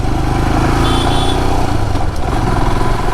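A 2020 Royal Enfield Himalayan BS6 motorcycle rides off, its engine thumping loudly and steadily up close with a rhythmic low putter and some mechanical clatter.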